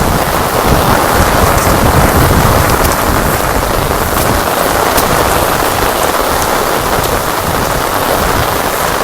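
Heavy storm rain pours steadily onto surfaces, a dense, loud, unbroken hiss of drops that holds constant for the whole stretch with no voices.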